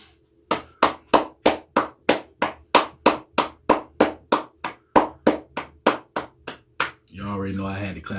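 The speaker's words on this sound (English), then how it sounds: "You already know I had to clap it up." Hands clap in a steady run of about twenty sharp, loud claps at an even pace. A burst of voice or noise comes in at the very end.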